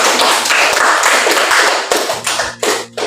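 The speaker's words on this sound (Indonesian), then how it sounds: "Sekarang kita berikan aplaus untuk kita semua." Applause from a classroom group, a dense burst of many hands clapping together at close range that fades and thins out over about three seconds into a few scattered claps.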